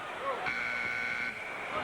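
A basketball arena buzzer sounds at the end of the shot clock during a 1993 Bulls versus Nets NBA game, a sustained electronic tone over crowd noise with a commentator talking.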